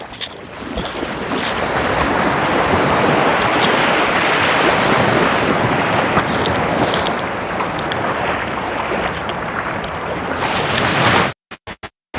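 Sea waves break on the shore in a loud, continuous rushing roar with wind gusting over the microphone, cutting off abruptly near the end.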